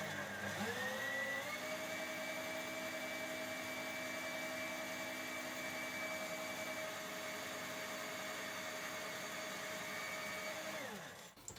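An electric mixer whirs steadily through a rum and raisin ice cream mixture, with a loud, constant motor hum and a rising pitch as it spins up, holding for about ten seconds before winding down at the end.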